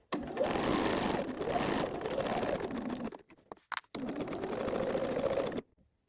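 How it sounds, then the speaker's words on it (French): A sewing machine with a standard foot and stitch length 3 stitches a trouser seam 1 cm from the edge. It hums steadily in two long runs separated by a short pause with a few clicks, heard up close. "Donc vous allez coudre à 1 cm du bord."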